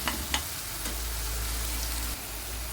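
Onion and green chili frying in a pan, a steady hiss of oil with a few faint stirring taps at the start, quiet and close, with no talking.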